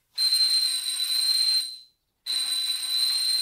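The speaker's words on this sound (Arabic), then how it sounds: "عم يدق جرس الباب، الظاهر اجا." A doorbell rings in two long, shrill electronic buzzes with a brief gap between them, loud and close in a quiet home.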